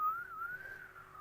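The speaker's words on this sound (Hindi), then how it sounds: "मैं सीटी बजा रहा हूँ।" A man whistles a single wavering, rising tone for about a second, clear and close, with a quiet room behind it and no talking.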